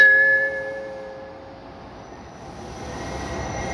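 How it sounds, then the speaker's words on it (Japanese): A JR Senseki Line train pulling into Rikuzen-Haranomachi station, with loud rumbling and sustained high wheel squeal close by on the platform as it arrives. "まもなく2番線に列車が参ります。"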